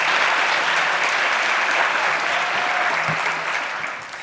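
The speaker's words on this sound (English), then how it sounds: "let's give them a round of applause for their support" A school assembly audience applauds with loud, dense, sustained clapping that fills the room, then fades slightly toward the end. A faint voice is briefly audible under the claps.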